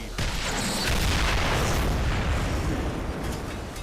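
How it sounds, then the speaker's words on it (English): A loud, sustained explosion in the Ghostbusters video game, a broad roaring blast that rumbles for several seconds before slowly fading, with no voices. "That looked pretty cool for an explosion."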